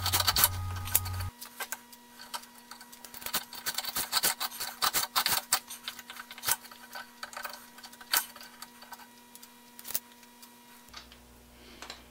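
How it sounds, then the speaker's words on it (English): Small plasterboard screws driven into the sides of a Panavise mount, giving close bursts of rasping, ticking clicks that come in clusters, with short pauses between them and no voices. "I'm going to put a couple of small plasterboard screws into the sides of it just so it doesn't spin"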